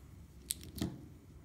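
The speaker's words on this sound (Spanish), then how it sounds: "Ajustamos bien y el excedente lo cortamos." Scissors snip the leftover red thread of a bracelet: two quick, faint clicks in an otherwise quiet moment, with no voices.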